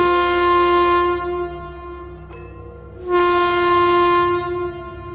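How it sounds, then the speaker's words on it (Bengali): A loud, sustained train whistle or horn holds steady tones, breaks off briefly, then sounds again alone over the rumble of a train passing through a railway station. "স্টেশনের নীরবতা ভেঙে দিল এক তীব্র ট্রেনের হুইসেল"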